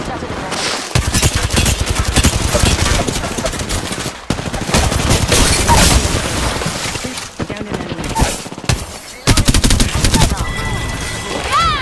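Rapid bursts of automatic gunfire crack and rattle in a battle royale video game, dense volleys with brief pauses, close and loud, with occasional glassy shatters and voice callouts underneath.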